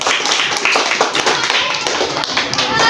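A classroom of students applauds a discussion group, dense scattered clapping that holds steady and fairly loud throughout, with some voices mixed in.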